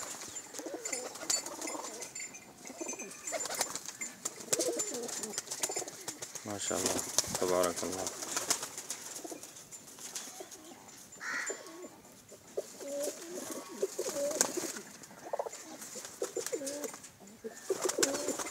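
Pigeon pairs coo in soft repeated throaty calls, with some wing flutter, under steady nearby talk from men.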